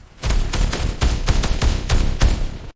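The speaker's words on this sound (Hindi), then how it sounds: "ऊपर की खिड़कियों से मशीन गनों की लगातार फायरिंग शुरू हुई" War documentary battle scene of machine guns firing from upper windows onto streets: rapid, loud bursts of gunfire in quick succession, each sharp crack followed by a short rumble, with no voices.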